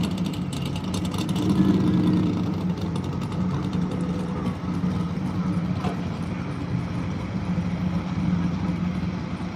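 A bluish purple big block drag racing car sits idling at a sand drag championship in Arizona, its engine giving a loud, steady, rumbling idle with slight revs throughout.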